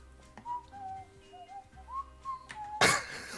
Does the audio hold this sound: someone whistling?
yes